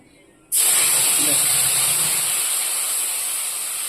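Homemade spice paste, cinnamon already in the pan, drops into hot oil for potol pasinda, a pointed gourd curry, setting off an abrupt, loud, continuous sizzle that stays strong and fades only slightly.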